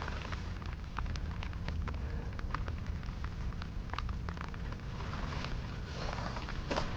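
Steady rain falls outdoors near a building site, a constant broadband wash with scattered sharper drops pattering on surfaces, close and even throughout with no voices.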